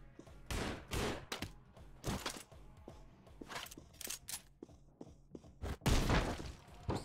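Several sharp gunshots crack out in quick bursts in the video game Anger Foot, loud and close, with uneven gaps between them; no voices.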